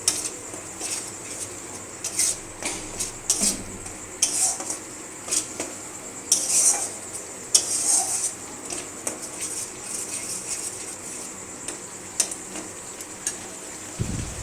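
A spatula or spoon scrapes and clatters against a pan as a spice masala with chili powder is stir-fried, with irregular metallic knocks over a soft background sizzle and no talking.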